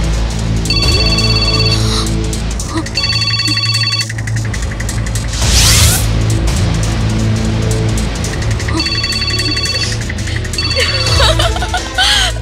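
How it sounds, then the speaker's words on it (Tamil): A cellphone rings in repeated melodic bursts, loud and close, over background music with a brief swell in the middle and no talking. "இத்தனை நாள் பயமே தெரியாத அனு இப்ப ஒரு செல்போன் அடிச்சாலே அத பார்த்து இப்படி பயப்படுறாட"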